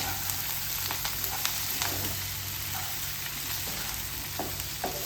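Bitter gourd stirred and frying in a pan, a steady close sizzle with occasional soft scraping taps of the spoon throughout.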